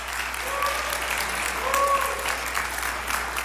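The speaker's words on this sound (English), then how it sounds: "That's Seattle Mayor Katie Wilson receiving applause from an unlikely crowd" A crowd applauds Seattle Mayor Katie Wilson with steady, dense clapping that holds at an even level throughout, sounding moderately close and continuous for a few seconds.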